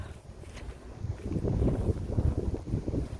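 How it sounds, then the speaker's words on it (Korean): Strong wind gusts during heavy snowfall roar as a low, buffeting rumble against the microphone, swelling and fluctuating continuously throughout, close and fairly loud. "아, 바람이 너무 많이"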